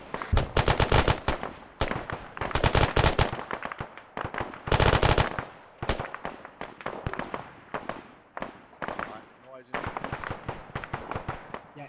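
Machine gun fire in the video game ArmA 3, loud rapid bursts repeating in clusters, with shorter scattered volleys between them and a few quieter gaps.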